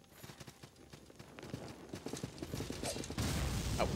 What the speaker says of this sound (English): just dodge Mr. Horsey until then